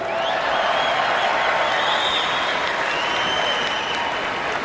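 Large convention crowd in Cleveland cheers and applauds in a continuous roar of clapping and voices, loud and sustained, with a few whistles rising above the wash.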